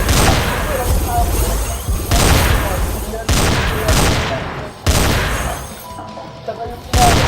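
Desert Eagle pistol fire in the zombie shooter game Survive Zombie Arena: loud, booming shots in repeated bursts, each with a trailing rumble, filling the whole stretch.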